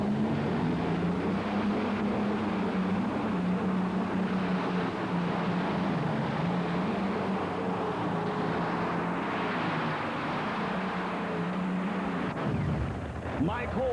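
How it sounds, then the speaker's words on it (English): An old Allison engine on a tractor-pulling machine idles loudly at a Canfield pulling event, a steady heavy droning rumble that holds for most of the time before cutting off abruptly near the end. "As the old Allison engine kind of cools off right now"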